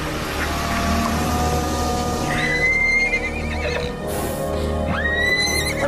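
A horse whinnies twice on a street, each neigh rising and wavering, loud and close, over a steady rumbling background with faint hoof clatter and no speech.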